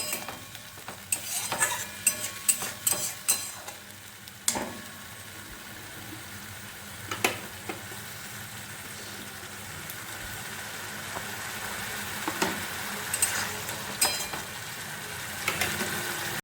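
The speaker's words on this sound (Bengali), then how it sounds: "সব কিছু কে ভালোভাবে কষিয়ে নেব 2 মিনিট সময় নিয়ে, যাতে টমেটো যে কাঁচা গন্ধটা আছে সেটা চলে যায়" Tomato and spices sauté in oil in a pan for a Bengali katla kaliya fish curry, with a soft steady sizzle under repeated scraping stirs that come in irregular bursts, close and moderately quiet.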